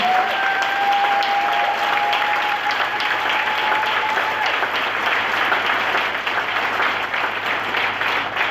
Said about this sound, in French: nous allons demander au peuple de Dieu d'acclamer fort pour Jésus-Christ qui a opéré ce miracle dans la vie de notre sœur